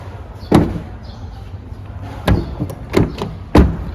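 An Isuzu D-Max 1.9L space cab pickup from 2018 has its doors handled: several hollow thuds and clunks of a door and latch, close by and spaced irregularly, with no talking.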